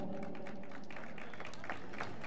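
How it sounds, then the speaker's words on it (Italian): An audience at a stage show in Benevento breaks into applause, a dense, continuous wash of clapping with a voice faintly underneath. "Signori, accogliamo con un grande applauso Antonio Regardi"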